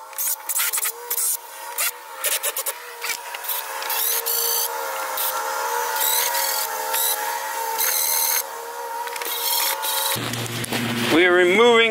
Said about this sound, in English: remove all the screws here